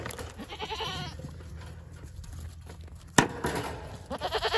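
A goat at close range in a farm pen gives a couple of bleats, with rustling and a sharp knock partway through, and steady low background hum throughout.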